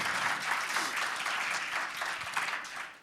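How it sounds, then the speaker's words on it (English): Audience applause after a conference talk: dense, steady clapping from a sizable room, fairly close and continuous throughout, with no talking over it. "First, a round of applause, and then the questions."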